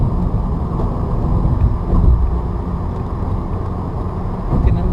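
A manual-transmission car rolls slowly through a tight corner in fourth gear at low speed, its engine a steady low drone under road and wind rumble, with no voices.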